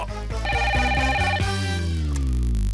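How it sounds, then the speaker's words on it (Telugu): A telephone rings loudly and steadily in a domestic setting from a Telugu TV serial, its electronic ringtone repeating a rapid warbling pattern for nearly three seconds with no voices over it. "అన్నయ్య పోలీస్ స్టేషన్ నుంచి ఫోన్"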